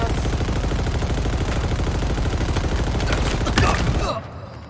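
Sustained rapid automatic gunfire from the multiplayer mode of Halo Infinite rattles loud and close for about four seconds. A sharper burst comes near the end, then the shots break off and only a quieter background remains.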